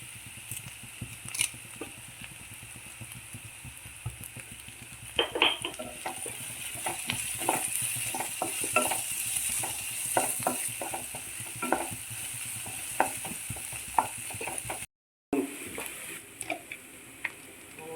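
Clam meat fries steadily in a pan, a soft continuous sizzle broken by the scrape and clink of a spoon stirring, fairly quiet with no talking.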